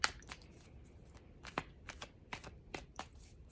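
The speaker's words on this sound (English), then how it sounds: "Let me just do a couple shuffles." Tarot cards riffle-shuffled several times up close, quick papery flutters and soft taps in a quiet room.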